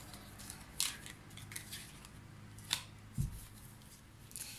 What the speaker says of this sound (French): Là, je vais recouvrir ces deux cartes